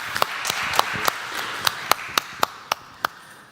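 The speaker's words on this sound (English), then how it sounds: "Yeah, round of applause." Sparse, sharp claps ring out one after another at a main-stage tech conference in Taipei, about ten distinct hits in an irregular rhythm rather than a full crowd ovation, fairly close and alone without talk.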